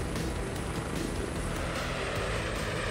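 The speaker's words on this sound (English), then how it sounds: "There is now a new H-145 rescue helicopter flying through the air." A new H-145 rescue helicopter flies on a factory test flight, its rotor and turbine making a steady, loud, broadband roar with a low rhythmic thrum throughout, and no voices.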